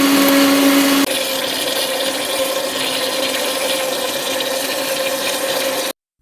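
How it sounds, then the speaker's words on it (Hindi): A kitchen blender roars loudly and continuously, grinding softened cooked ingredients into a paste. The motor pitch drops slightly after the first second, and the sound cuts off abruptly at the end. "अब इनको हमने कर लेना है अच्छे से ग्राइंड"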